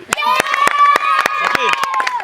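Children clap sharply and irregularly on an outdoor football ground, close and loud, while a voice talks over the applause.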